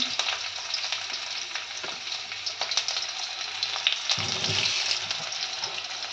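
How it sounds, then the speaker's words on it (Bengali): Sliced onion hitting hot oil in a kadai, giving a loud, steady frying sizzle with a surge of crackle partway through as the pieces land, plus occasional light clinks, no voices. "তেলটা গরম হয়ে গেছে, দিয়ে দিলাম পেঁয়াজ।"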